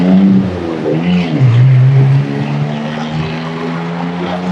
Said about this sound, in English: That's not a sports car, it's a Daewoo Matiz from the 90s. It still runs.